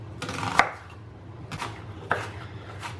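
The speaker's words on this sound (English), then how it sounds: "Here I have a quarter of a large onion, and I'm going to chop up that as well." Knife chopping a quarter of a large onion on a board: three or four distinct close thunks spaced about a second apart over a low background hum, no talk.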